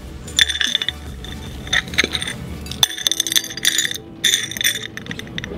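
Small pieces of glass clink and rattle onto a flat clay plate in irregular bursts of bright chinks and taps, close and fairly loud, separated by brief quiet gaps.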